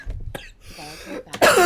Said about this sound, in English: somebody's gonna get so concerned I'm coughing again